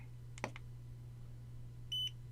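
A single faint click followed by a short, clean electronic beep from a Godox V480 camera flash signalling it has recycled, against a low steady hum.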